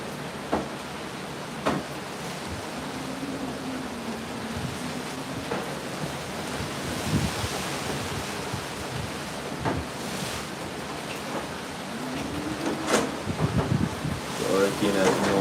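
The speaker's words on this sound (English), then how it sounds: "I'm going to hear the breeze and hear the wind" Gusty hurricane wind from Hurricane Melissa roars and buffets the microphone in Spanish Town, Jamaica, a steady rushing roar with occasional thuds, while someone talks intermittently over it.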